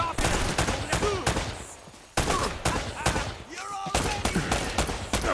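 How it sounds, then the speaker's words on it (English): Rapid bursts of gunfire in the video game Uncharted: Drake's Fortune, loud repeated shots and volleys over several seconds with game ambience behind them. "Who the hell is shooting?"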